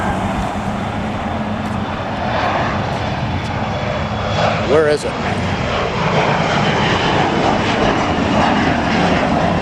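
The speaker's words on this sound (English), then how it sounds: "Got a plane taking off." An airplane takes off from the LAX north runway in Los Angeles under cloudy skies, a loud, continuous engine roar heard from nearby, with a brief spoken question partway through.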